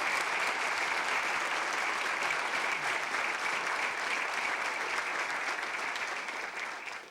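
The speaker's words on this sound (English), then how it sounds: "Let's give Gary Bies a big round of applause for his many years of service." An audience at an annual meeting applauds a retiring state assemblyman, steady loud clapping that continues throughout and tapers slightly at the very end.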